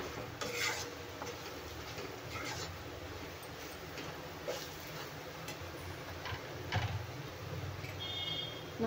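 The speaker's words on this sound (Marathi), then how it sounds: "मसाला छान आपल्याला तेलात भाजून घ्यायचा आहे।" Masala roasts in oil in a pan with a faint, low sizzle and occasional light scraping and tapping of a spoon. The sound is quiet and close, with no talk.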